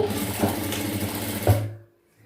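A sewing machine stitches pleats on chudidhar pants, running steadily and close for under two seconds before stopping abruptly into near silence.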